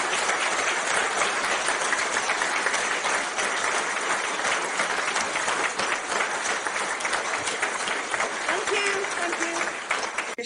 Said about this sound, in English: Please give her the round of applause.